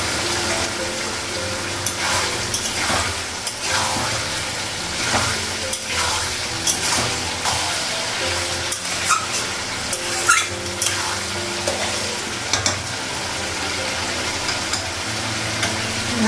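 Garlic sizzles steadily in a pan while a utensil stirs it, giving a continuous close frying hiss broken by regular scraping strokes.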